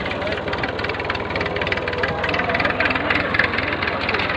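A tractor engine drives a new borewell pump through a shaft and pulley. It makes a steady, loud, low mechanical drone with a continuous knocking rumble, close by and with no gaps.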